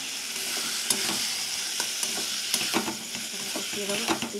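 Boiled potatoes and chickpeas are stirred in a frying pan, a steady sizzle with scraping, clacking spoon strokes repeating close by, no talk.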